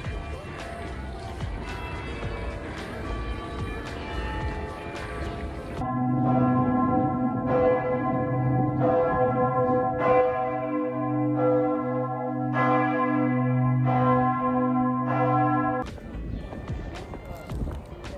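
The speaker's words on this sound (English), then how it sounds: "Can you hear the bells?" Church bells of St. Pierre Cathedral in Geneva's Old Town pealing loudly and repeatedly, overlapping strokes ringing on with a lingering hum, while street noise carries on around them.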